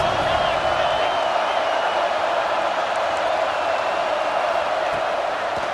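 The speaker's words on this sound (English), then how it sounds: "Big third down in the red zone, and this crowd is getting behind this defense." Stadium crowd noise for the home defense on a red-zone third down in EA Sports College Football 26, a steady, loud wash of cheering with scattered whoops, unbroken throughout and with voices under it.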